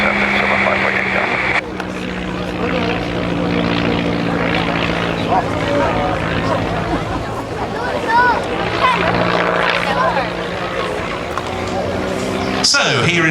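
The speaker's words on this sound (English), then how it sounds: "here in front of us, starting his display, we have Gavin Hunter on the Casa 131B Jungmann" A Casa 131B Jungmann biplane flies its display at the East Fortune Air Show, its propeller engine droning steadily and loudly throughout while an announcer talks over it.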